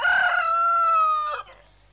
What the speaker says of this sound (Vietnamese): Mỗi sáng á, nó phải gáy cho thiệt là to để nó đánh thức ta dậy ta đi săn.